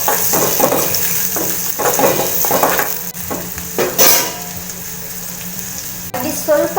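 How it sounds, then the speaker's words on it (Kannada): A tempering of dried chillies, curry leaves and chopped onion sizzles loudly in a pan for buttermilk curry, with bursts of crackle as it is stirred and brief pauses. "ಇದನ್ನು ಕೂಡ ಒಗ್ಗರಣೆ ಹಾಕೊಂಡು ಚೆನ್ನಾಗಿ ಮಾಡ್ಕೋಬೇಕು."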